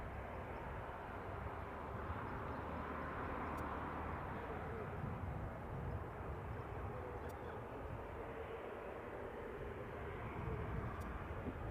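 An airliner moving at Leeds Bradford Airport gives a steady, broad engine roar that holds evenly throughout, heard from a spotting position, with faint talk underneath.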